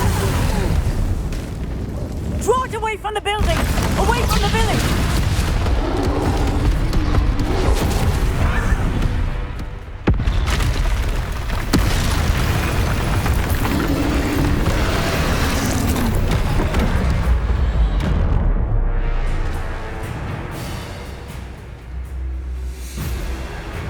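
Bombarda spell explosions from the Hogwarts Legacy video game, loud continuous booming blasts and rumbling in a battle, mixed with game effects and a brief voice.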